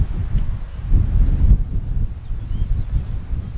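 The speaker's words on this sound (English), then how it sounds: "Boy, is it windy out here." Gusty wind buffets the microphone in low, rumbling bursts on the Appalachian Trail near Grayson Highlands, with no one talking.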